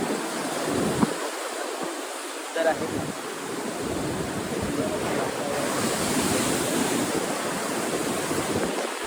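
Steady surf washes onto a Konkan shore with a broad, continuous rush, joined by brief speech from a person.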